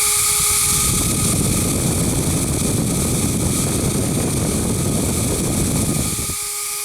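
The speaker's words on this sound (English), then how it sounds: "It's loud, but it works. Definitely sounds like a quadcopter." A homemade mini twin fan roars loudly like a quadcopter, a dense buzzing whir with a high whine, running steadily up close before cutting off near the end.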